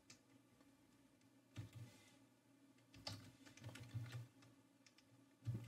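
A sudo bash command is typed on a computer keyboard in quiet bursts of soft, close keystrokes, with brief pauses between clusters of clicks.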